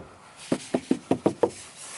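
Six sharp knocks on a solid, sound-deadened van wall, evenly spaced and fairly loud, each a dull muffled thud with little ring.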